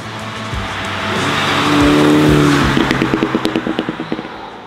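A Mini Cooper's 220-horsepower 2-liter engine in sport mode revs hard and climbs in pitch, then the throttle lifts and a rapid, crackling burst of exhaust pops and bangs follows, loud and close.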